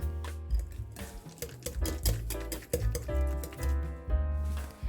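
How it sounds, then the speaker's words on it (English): Boiled potatoes with butter are mashed with a whisk in a bowl, giving a run of irregular close taps and scrapes over a steady musical backdrop. "get mashing with a whisk"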